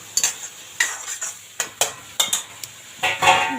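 Cauliflower added to hot oil with tomatoes frying in a pan and stirred, with a series of sharp, close scraping and clinking strokes of a spoon against the pan at an uneven pace, with a soft sizzle between them.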